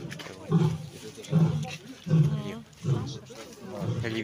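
A lion at the Novosibirsk zoo gives a series of about five deep roars at a moderate distance, each roar a separate surge, while visitors talk nearby.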